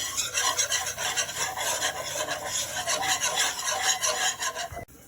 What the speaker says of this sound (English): I'm just gonna whisk that together until it forms a nice sandy color